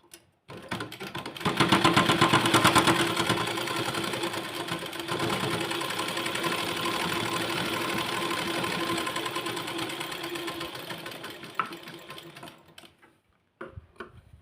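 A sewing machine stitches fabric in a fast, even run of needle clatter, close and loud, lasting about eleven seconds before stopping, with a couple of brief clicks afterwards.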